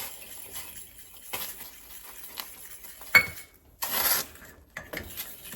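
A spoon scrapes and clinks against a pot as ragi flour is stirred quickly into boiling water over a low gas flame, irregular metallic knocks and rubbing sounds, close and fairly quiet.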